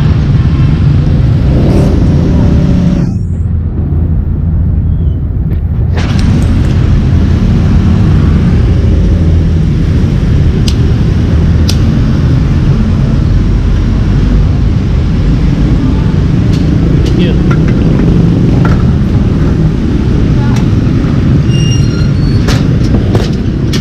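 A Honda Click scooter engine warms up with a steady, loud motor drone, broken only by a brief dip early on, then running on continuously with occasional small clicks.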